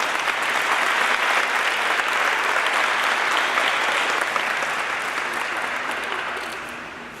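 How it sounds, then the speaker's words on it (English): An audience applauds at a women's soccer signing event, a full, dense clapping that holds steady for several seconds before tapering off toward the end. "To all of you, my appreciation and applause."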